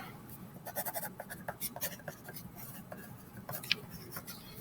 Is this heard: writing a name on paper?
yes